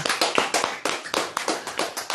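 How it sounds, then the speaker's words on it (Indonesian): Audience at an Islamic religious lecture clapping for Mr. TM, a short burst of sparse, uneven hand claps close by, with no talking. "Tepuk tangan untuk Mr. TM ya"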